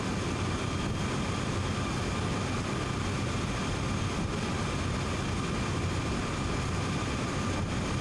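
A freight locomotive on a manifest train climbing Sand Patch Grade in Train Sim World 2 drones steadily at about 22 mph, a dense continuous engine roar with no pauses.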